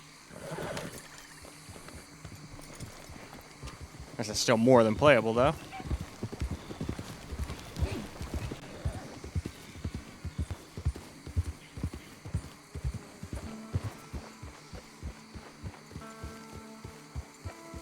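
Horse hooves clip-clopping during riding in Red Dead Redemption 2, a steady rhythmic run of hoofbeats building up after a horse whinny, with someone talking over the start.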